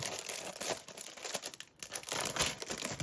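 Plastic or paper packaging being pulled open during an unboxing of stationery items such as bookmarks, with continuous close crinkling and tearing for about three seconds and a brief pause midway.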